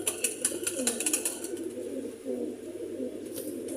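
Sialkoti pigeons give low, soft coos close by. Faint chirps and rustles sit over a quiet, steady background throughout the short stretch.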